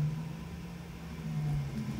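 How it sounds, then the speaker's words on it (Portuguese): A GTMAX3D CORE A3V2 3D printer's extruder stepper motor runs with a steady, faint low hum that stays even throughout, with no voices. "a gente tem aqui o motor de passo, a extrusora está trabalhando"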